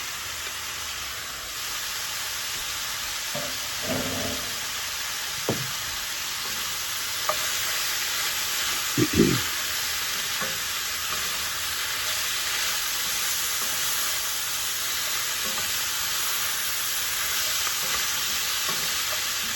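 Steak and vegetables sizzle in a pan on the stove, a steady close hiss punctuated by a few scraping knocks of a utensil stirring them, with no voices.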